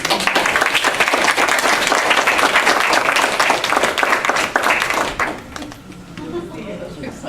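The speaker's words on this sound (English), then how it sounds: "Looks like I'm getting some applause from this little one over here too, which is great." An audience at a grandparents and parents press conference breaks into sustained applause after a speaker is introduced, a dense, loud clatter of clapping that fades near the end as the room settles.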